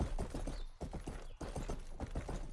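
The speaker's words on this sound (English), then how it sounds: "this is a quick horse" Horse hooves gallop in the video game Rustler, a fast, steady clip-clop rhythm of repeated thuds running nearly the whole time at close range.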